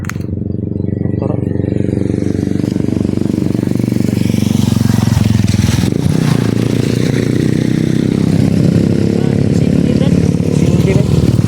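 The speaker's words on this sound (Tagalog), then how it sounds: "Pero Brad, murag na motor, Brad." A motorcycle engine drones loudly and continuously close by on a road, rumbling with rough low clatter throughout, while voices talk over it.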